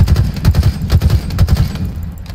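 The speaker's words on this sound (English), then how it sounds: "I'm shooting at him" Rapid bursts of automatic gunfire in the shooter Halo Infinite, loud and close, a rhythmic volley of shots that thins out toward the end.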